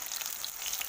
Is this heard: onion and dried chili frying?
yes